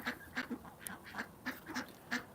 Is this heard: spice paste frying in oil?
no